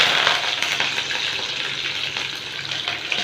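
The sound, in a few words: mustard seeds and curry leaves sizzling in hot oil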